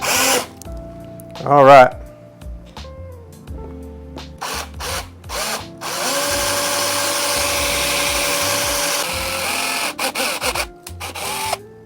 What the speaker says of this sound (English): we got our holes drilled out